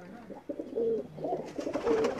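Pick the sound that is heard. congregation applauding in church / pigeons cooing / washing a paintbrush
pigeons cooing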